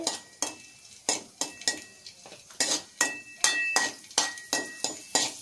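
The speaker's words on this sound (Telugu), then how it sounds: "తర్వాత ఎండు ద్రాక్ష వేపుకోవాలి" A spoon knocks and scrapes rhythmically in a pan while raisins fry for rava kesari, giving a steady series of sharp metallic clinks close up with a light sizzle underneath.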